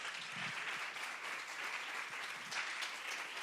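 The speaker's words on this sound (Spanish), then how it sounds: "Por favor, les pido un aplauso para recibirla." Audience applause at a translation and interpretation forum, steady dense clapping from a seated crowd welcoming a speaker, sustained evenly throughout without voices.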